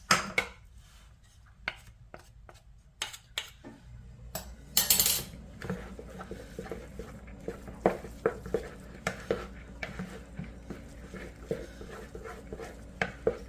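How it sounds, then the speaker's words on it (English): Couscous being mixed with squeezed lemon juice and half a cup of olive oil, giving irregular clinks and scrapes of a utensil against a bowl, with a few louder knocks, close and alone. "I'm going to go ahead and put that in my couscous and mix it up"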